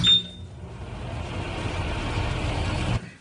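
A microwave oven runs with a steady, low mechanical hum for about three seconds after a brief click at the start, then cuts off.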